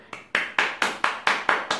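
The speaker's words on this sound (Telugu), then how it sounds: "గట్టిగా చప్పట్లు కొట్టాలి" Children in an upper kindergarten class clap their hands together in a steady rhythm before a story, about eight crisp, evenly spaced claps in quick succession.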